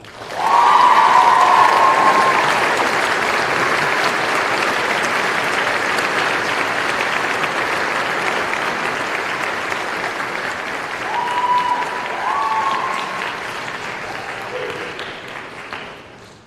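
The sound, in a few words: audience applauding an honoree at a senior honors night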